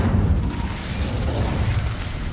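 An Incendio fire spell cast in Hogwarts Legacy makes a loud, close, sustained roaring burst of flame that fills the whole moment, with no talking.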